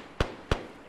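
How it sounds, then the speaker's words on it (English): Two sharp, close gunshots about a third of a second apart inside a base in Arma 3, each a brief crack with a quick decay, with no talk. "Who's shooting in base?"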